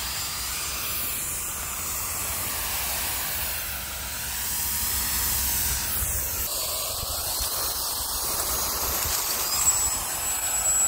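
A Kica Jet Fan MAX runs with a steady, loud rushing hiss of airflow close by, the whooshing tone shifting slightly as it continues unbroken.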